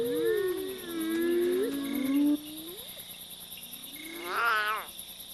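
Plaintive cries of an abandoned lion cub in the wild at night, several wavering calls rising and falling one after another, fairly close over a low hum of night insects.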